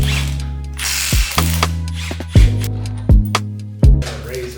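A ratchet wrench works the 18 mm front differential bolts on a BMW E92 M3, giving loud, close clicking pawl runs broken by several distinct resetting strokes, with no voices.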